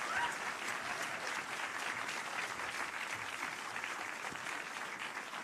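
Audience at an environmental excellence awards ceremony applauding a lifetime achievement award winner, dense, steady clapping from a large crowd heard alone at moderate volume throughout.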